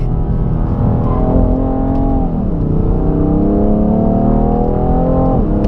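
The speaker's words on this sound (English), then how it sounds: "when those turbos kick in, on that 3-liter twin-turbo inline-6, this thing pulls hard" A 2017 BMW M3 Competition Package with a 3-liter twin-turbo inline-6 accelerates hard, its loud, steady engine drone rising in pitch, dipping briefly at a shift, then climbing again with no talking.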